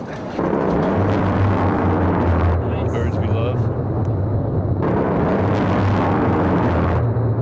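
A loud, sustained roar of rapid A-10 aircraft cannon fire with a deep engine drone, while someone talks over it.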